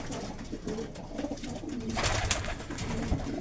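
Racing pigeons coo steadily inside a small loft, a dense layer of soft overlapping calls at close range, with brief fluttering and rustling sounds mixed in throughout.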